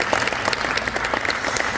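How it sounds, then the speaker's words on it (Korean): A church congregation at a Korean evangelism seminar claps together in a dense, sustained round of applause, many hands at once filling the room with no voices. "하나님께 영광의 박수 한번 올려드리도록 하겠습니다."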